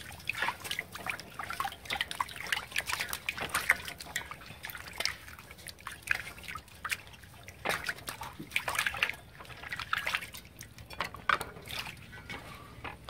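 Water trickles, drips and splashes steadily as Nile tilapia is rinsed with salted water in a kitchen, close and fairly quiet with no talking.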